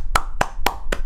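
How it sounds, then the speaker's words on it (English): Four sharp hand claps in a steady, evenly spaced rhythm, loud and close, with no talking over them, during a hip-hop reaction stream. "Clap it up for a Moseefus pick."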